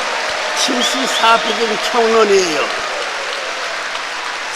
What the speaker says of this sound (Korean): 여러분은 다시 한 번 더 큰 박수로 감사의 뜻을 모아주시면 고맙겠습니다.